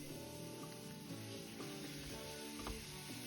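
Ground beef and onions sizzle in a large skillet over medium-high heat, a steady, fairly quiet crackling hiss with scattered pops and occasional stirring scrapes, alone without voices.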